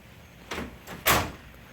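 Mini fridge door in a hotel room, one soft thud as it is handled, then a louder, sharper clunk of the door opening, against a quiet room hum.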